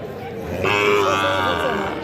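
A cow lets out a long, loud moo close by at a cattle market, rising over a murmuring background of people.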